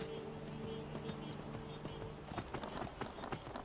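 A ridden horse's hooves clop in the video game Skyrim, soft at first under steady background music, then a busier burst of hoofbeats toward the end.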